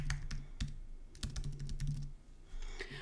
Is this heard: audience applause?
no